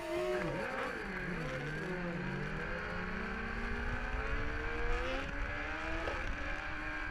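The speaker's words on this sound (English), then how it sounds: "burning up the rubber on that Dunlop slick" A BMW S1000RR superbike does a burnout on a Dunlop slick tyre at a superbike race: a loud, high engine holds its pitch and rises and falls as the rear tyre spins, with no voices over it.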